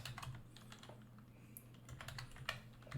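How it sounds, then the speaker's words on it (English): Quiet, irregular clicking of keys on a computer keyboard, uneven in pace, over a low steady hum. "Excuse my slow typing."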